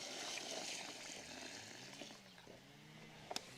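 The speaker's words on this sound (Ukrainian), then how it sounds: "заливаємо водою," Water pours from a bag or vessel into a pot of dry hemp seeds being prepared as fishing bait, a soft steady trickling splash close by with a few small clinks near the end.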